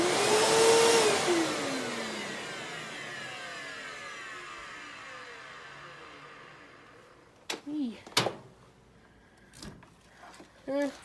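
A Hoover Elite Rewind upright vacuum cleaner with a faulty motor whines loudly, then winds down steadily over several seconds. A few sharp knocks and clunks close by follow.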